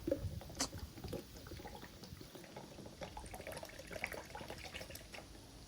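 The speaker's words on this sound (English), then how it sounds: "So I'm just gonna pour some of the Flood in this and then start brushing it on." Flood oil finish poured into a container before brushing onto a patina, a soft steady liquid trickle with small splashes running close by for several seconds, no talking.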